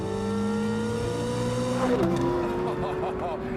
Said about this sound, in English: An induction noise is what you want in a high-revving, naturally aspirated engine.